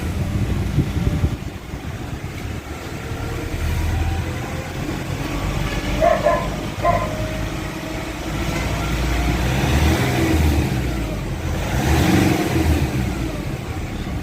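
Nissan Calibre engine with throttle delay and a humming transmission, revving steadily with a constant droning hum and rising and falling engine tone, close and fairly loud, without speech.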